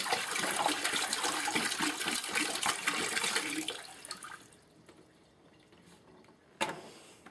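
Toilet flushed by pouring water into it, a loud rushing gush that drains away to quiet trickling, followed by a short sharp splash near the end.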